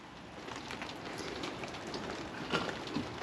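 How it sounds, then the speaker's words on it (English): Steady rain hissing on surfaces at a deck construction site, with a few louder drips standing out near the end. "The weatherman got it right. It's raining."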